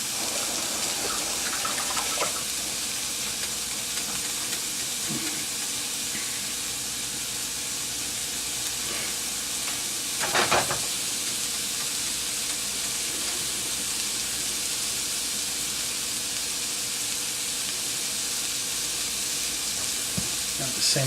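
Food sizzling and caramelizing in hot oil in a pan before pork goes in, a steady close frying hiss running throughout with a few faint clinks and stirs.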